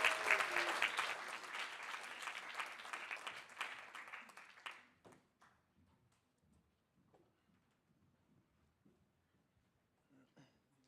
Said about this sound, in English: Ladies and gentlemen, can I get a round of applause for Ayush Bhattacharya?